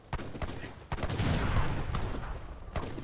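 Several cannon blasts booming from a batch of four or five cannons in the strategy game Age of Empires III, sharp repeated reports spaced through the moment over a low rumbling battle backdrop.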